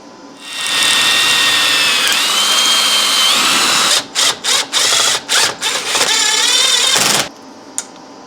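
Power tool bolting parts onto a fertilizer spreader, a loud whirring drill-like motor that runs steadily for several seconds, then stutters in a quick series of short bursts before stopping.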